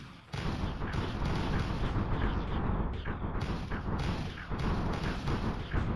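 Heavy artillery fire from the Rusted Warfare strategy game: dense, continuous booming volleys and blasts roll almost without a break, with a short lull in the middle, loud and close throughout.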